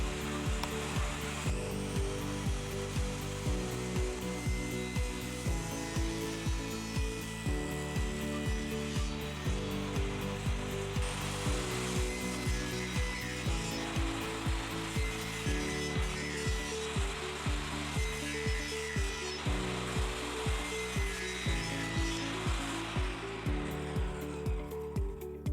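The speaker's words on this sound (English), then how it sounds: "I then started cutting the wood for the drawers that will go on the inside of the printer box" Thin plywood being cut for drawers with a power saw, a loud continuous rasping cut in steady repeating strokes that runs throughout.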